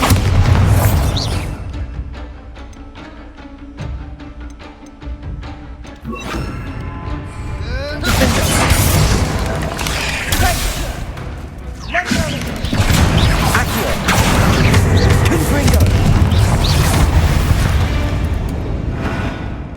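In Hogwarts Legacy, the Bombarda explosion spell is cast, setting off loud booming blasts and crashing debris amid dense game sound and music, with a few heavy impacts spread through the stretch.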